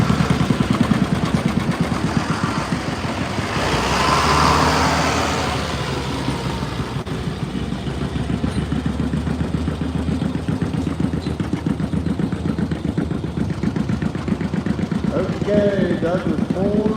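An antique tractor engine runs steadily at a tractor pull at the Harvest Barn in Ohio, a continuous low, throbbing drone lasting throughout, with background voices faintly mixed in.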